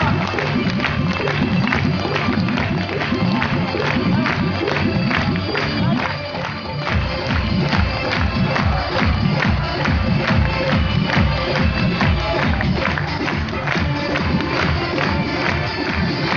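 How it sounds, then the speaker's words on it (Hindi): Dense crowd at a Durga Puja gathering in Bettiah, clapping and cheering loudly and without a break, with shouting voices mixed through a steady roar. "जोरदार तालियों के साथ"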